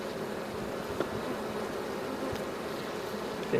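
A steady, soft buzzing hum of many honey bees at an open hive continues without a break. No voices are heard.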